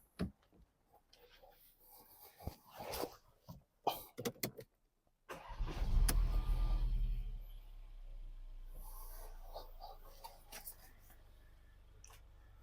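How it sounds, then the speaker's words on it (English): A Mercedes A-Class engine being started during indicator repair work: some clicks and handling noises, then the engine catches and settles into a steady, close idle hum that continues to the end. "Now I'm going to start the car and have a look."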